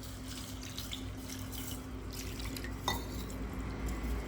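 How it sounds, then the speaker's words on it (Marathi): Rice being rinsed by hand in a change of fresh water, a steady wash of swirling, splashing water with one brief louder clink partway through, close and continuous with no talk. "त्यामध्ये मी तांदूळ स्वच्छ धुवून टाकणार आहे"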